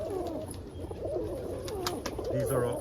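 Roller pigeons, including silver check and opal ballheads, coo softly at close range in repeated low warbling phrases, with faint chirps above them and quiet background noise.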